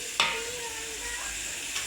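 Jackfruit and potato sautéed with spices in a pan, a soft steady sizzle with a sharp stir clink near the start and another faint one near the end.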